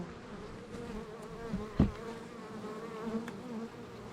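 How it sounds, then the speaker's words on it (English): Honeybees hum inside a hive near a shavings box, a low continuous drone with a single sharp knock partway through. "A few bees on the bottom of the shavings box."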